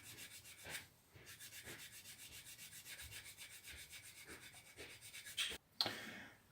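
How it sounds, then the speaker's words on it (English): Close, quiet rhythmic rasping of a sanding stick worked back and forth in short even strokes along the joining line of a Mitsubishi Zero scale model, with a few brief louder scrapes near the end. "I'm just starting to sand the"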